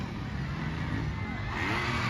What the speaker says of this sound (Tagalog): Grabe, hiyawan ng mga tao dito